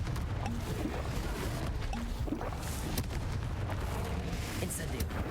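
Explosive fiery blasts of the Confringo spell in the Hogwarts Legacy video game, booming rumbling impacts over a constant roaring battle din, several bursts spread through the clip.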